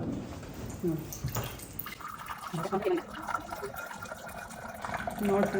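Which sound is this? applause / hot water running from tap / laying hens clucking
hot water running from tap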